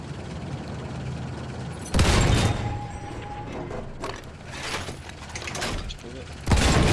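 Artillery fire in a video game strikes an assault truck, a loud broadband boom at about two seconds, more impacts and rumbling mid-clip, and another heavy blast near the end, with a player's voice talking throughout.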